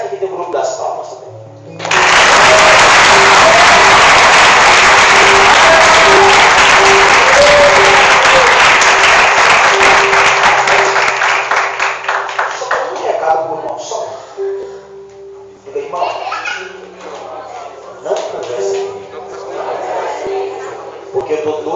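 A church congregation at a youth congress bursts into loud, sustained applause and clapping for about ten seconds, tapering into scattered claps under a preacher's voice and cheering.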